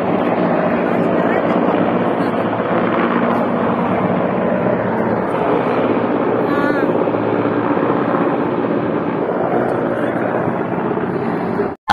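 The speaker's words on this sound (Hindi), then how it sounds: "ऐसा आपने हेलीकॉप्टर तो देख लिया होगा, ये हर 10-15 मिनट में आता रहता है।" A firefighting helicopter passes overhead to collect water, its loud, steady rotor roar and engine drone filling the air continuously before cutting off abruptly at the end.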